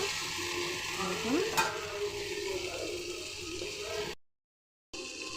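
Tomato pieces sizzling and frying in a pan while being stirred, a loud close crackle with scraping stirs throughout, then a short drop to silence before the frying resumes.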